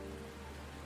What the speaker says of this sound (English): how many different rain tracks do I have?